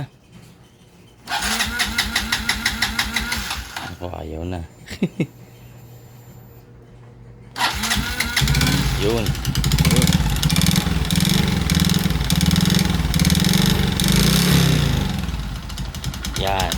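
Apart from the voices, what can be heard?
motorcycle engine starting and running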